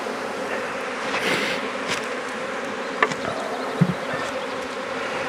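Honeybees buzz steadily at an open hive during an inspection, a dense continuous hum close by, with a couple of faint knocks near the end and no talking.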